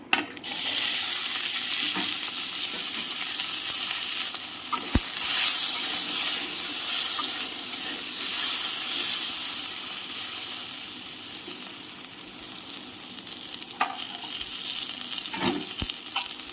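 Cut okra frying in a pan, a steady loud sizzle with occasional stirring scrapes and clinks, no voices.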